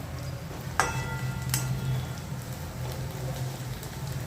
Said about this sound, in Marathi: हे बघा आपला कांदा जरासा फ्राय होत आलाय